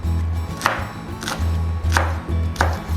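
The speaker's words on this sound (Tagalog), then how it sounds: "hihiwain na natin ang ating lettuce" A knife chops romaine lettuce on a board for a Caesar salad, with four sharp, close cuts spaced evenly over a steady low kitchen hum.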